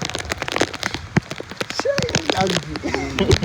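Patter of rain on a surface with scattered crackling drops, while voices talk and call out over it nearby.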